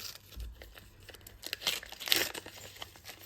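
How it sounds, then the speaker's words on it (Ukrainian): Crinkling and tearing of a thin paper surprise packet holding a pair of paper earrings, a few soft rustles building to a sharper rip near the end, close up and quiet. "давайте відкриємо пакетик"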